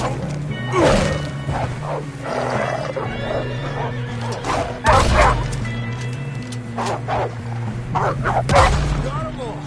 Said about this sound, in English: All right, John, come on. Let's get you on that horse